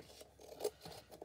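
Scissors snip excess material off a book cover in a few quiet, close, crisp cuts, spaced apart over a second.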